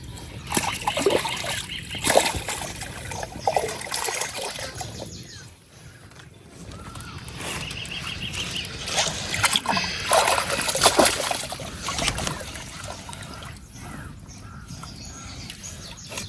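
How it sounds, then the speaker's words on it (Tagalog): Fishpond water trickles and splashes through a hole in the dike in soft, uneven dribbles. The sound is fairly faint, with occasional bird calls and outdoor ambience. "Pumapasok po yung tubig. Tumitilas po dito sa butas."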